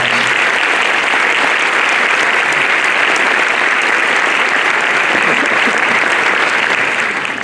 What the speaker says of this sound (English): So I'd like to recognize them and have a round of applause.